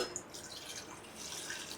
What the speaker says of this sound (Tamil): ஃபஸ்ட்டு ஒரு கிளாஸ் தண்ணி ஊற்றிக்கலாம்.